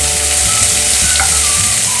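Cabbage and onion sautéing in a hot pan give a loud, steady sizzle close by, with a faint stirring scrape partway through and no talking.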